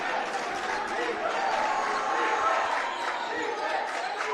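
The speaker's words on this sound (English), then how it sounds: "Crowd getting into it." Steady crowd noise at a boys high school basketball game, George Washington vs. South Charleston, a continuous wash of cheering and chatter that swells slightly mid-clip, with the crowd getting into it after back-to-back threes.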